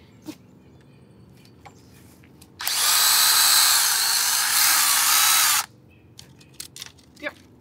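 Power tool cutting branches off a tree for a deer mock scrape outdoors, a loud steady whine lasting about three seconds, framed by quieter scattered knocks and handling sounds.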